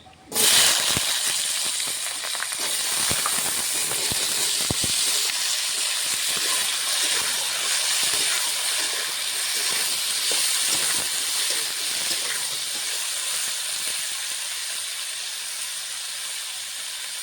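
Cut potatoes hit hot spiced oil in a pan, giving a loud, steady hiss that starts abruptly and then holds fairly even throughout, with faint scraping now and then.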